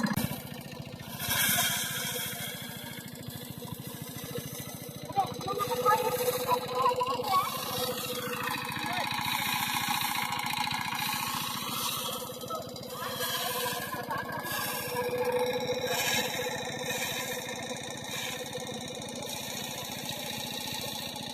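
A rice threshing machine engine drones steadily in a village, running continuously in the background with shifting pitch and occasional rises in intensity throughout.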